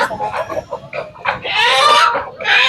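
A white hen and silkie chickens give a run of short, close clucks and squawks that build into louder, sustained calls.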